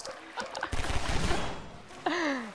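A burst of explosion noise in Half-Life 2 Co-op (Synergy), broadband and crackling, followed by a rising electronic tone; faint speech-like sounds at the start.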